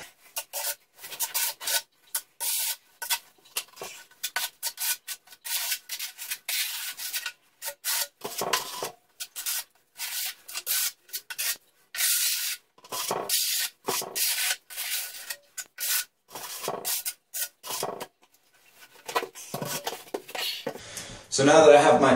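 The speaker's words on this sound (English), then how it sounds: "So now that I have my tile back buttered, I've got a nice even coat on both sides." A trowel scrapes thin-set mortar across the back of a floor tile in repeated short rasping strokes, close and fairly loud, with brief pauses between passes.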